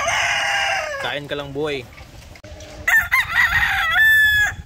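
Gamefowl breeding roosters crow loudly and close by, one long call after another with overlapping crows in the background. Someone says a few words between the calls.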